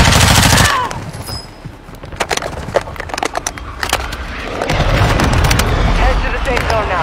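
Gunfire in a battle royale video game, a loud sustained burst of automatic fire, then scattered sharp shots and clatter, then another heavy stretch of firing, with a voice speaking briefly over it.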